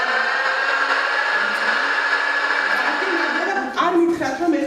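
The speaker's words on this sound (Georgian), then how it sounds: "აბა თუ შეიძლება ჩართე მიქსერის ხმა" An electric kitchen mixer recording plays in a biology classroom: a steady, loud motorized whir that holds evenly for several seconds, then shifts and wavers in pitch near the end.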